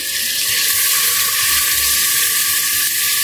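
Water pours steadily into haleem mix inside a pressure cooker, a continuous loud rushing splash with no break and no talk.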